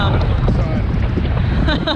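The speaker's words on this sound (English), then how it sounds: "As you can imagine, it's very windy." Strong gusty wind buffeting the microphone at the Pali Lookout in Hawaii, a loud low roar throughout, with people talking underneath.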